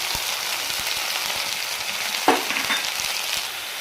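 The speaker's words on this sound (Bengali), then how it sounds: "মশলাগুলো ভালো করে ফ্রাই করতে হবে, ভাজতে হবে" Spices, chopped onion and tomato frying in oil, a close, even sizzle with a soft bubbling texture and one sharp spoon scrape partway through, no voices.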